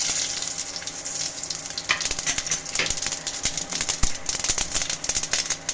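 Dried chillies and mustard seeds crackle and sizzle steadily in hot oil in a pan, a continuous bright frying hiss with sharp pops throughout, close and fairly loud.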